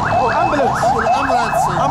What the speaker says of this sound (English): You can hear the ambulance or the police